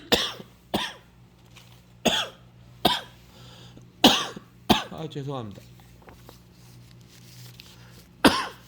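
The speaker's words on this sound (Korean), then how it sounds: "제가 아직도 기침하는 게 낫질 않았습니다." Several sharp coughs come in a loose series, with a brief spoken apology in between, then a final cough after a pause.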